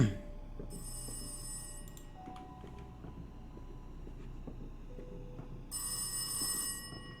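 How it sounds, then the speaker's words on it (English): An old telephone rings with harsh electric bell bursts in the Rise of Insanity psychological horror game, two loud rings separated by a low rumbling ambient drone and faint clicks. "Again, that phone."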